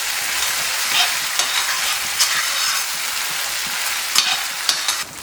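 Onion, green chilies and ginger-garlic paste sautéing in a pan, giving a continuous loud sizzle broken by irregular sharp clinks and scrapes of a stirring spoon, no talk.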